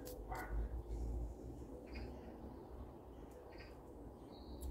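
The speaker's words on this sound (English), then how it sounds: "Dog seems to be barking at something" A dog barks outdoors in a garden, a few sharp, fairly faint barks near the start and middle over steady low background rumble.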